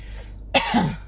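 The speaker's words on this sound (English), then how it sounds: "I'm sorry, guys. I'm coughing." A single sharp cough bursts out close up, followed by a brief raspy throat sound.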